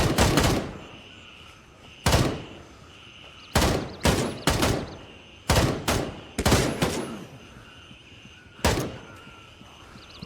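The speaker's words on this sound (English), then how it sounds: "He's pulling the trigger and you can hear the click" Sharp, loud gunshots in a tactical shooter video game ring out in separate bursts and single cracks, with quiet gaps between them, against a faint steady background hum.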